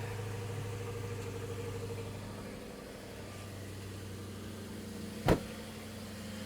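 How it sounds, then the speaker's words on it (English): A low, steady V8 idle from a 2006 Lexus LX 470 with a 4.7-litre engine and dual exhaust rumbles on without a break, with a sharp click or knock near the end. "Let's listen to that dual exhaust."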